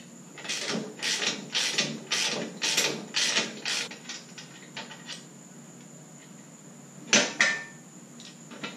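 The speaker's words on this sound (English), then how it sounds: "So let's go ahead and take this bolt loose." A ratchet loosening a bolt on a shop hoist, a run of about eight quick clicking bursts followed by a pause and then a couple more clicks, close and clear.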